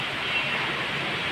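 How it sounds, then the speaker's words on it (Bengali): Heavy rain falls with wind as an even, dense hiss that holds steady from start to finish, with no distinct drops or gusts standing out. "দেখতে পাচ্ছেন কি বৃষ্টি হচ্ছে, সাথে বাতাসও আছে"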